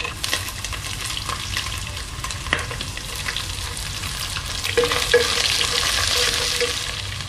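Garlic and ginger fry with coconut pieces in a pan for Kerala-style beef curry, giving a steady close sizzle broken by scraping stirs, with no talking.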